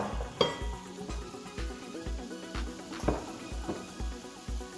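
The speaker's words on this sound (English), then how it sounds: "I'm going to saute my onions now. So that's onions and ginger together." Onions and ginger sautéing in a cooking pot for a goat stew, with a soft sizzle under repeated rhythmic clinks and scrapes of a utensil against the pot, fairly quiet and close, with no talk.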